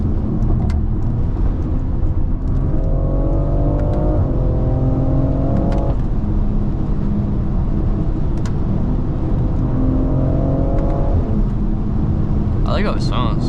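BMW X3 M engine pulling in sport mode from inside the cabin, a steady muffled drone with rising rev sweeps through gears and road noise underneath.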